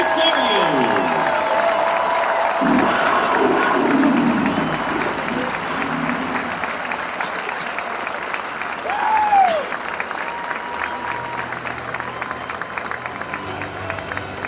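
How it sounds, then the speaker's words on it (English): A stadium crowd at a Penn State football game against Michigan applauds in a long, dense roar of clapping and cheering that starts loud and slowly fades, with some voices mixed in. "Ladies and gentlemen, a big round of applause to the Belisarios."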